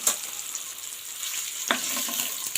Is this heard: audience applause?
no